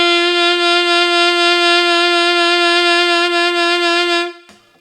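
A single sustained reed note held for about four seconds with an even, gentle vibrato, then cut off abruptly.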